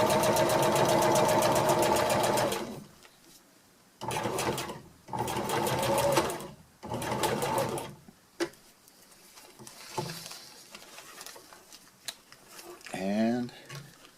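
A sewing machine stitches the hem of a fabric pack cover in several fast, close, whirring bursts separated by pauses, with a faint voice briefly audible.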